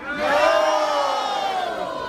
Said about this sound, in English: Sounds like a resounding yes over here.